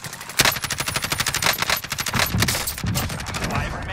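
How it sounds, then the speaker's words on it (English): Rapid automatic gunfire rattles through a Call of Duty Warzone match, a loud, near, continuous burst of machine-gun shots in quick rhythmic succession with a voice talking over it. "Oh, he's getting shot at from somebody."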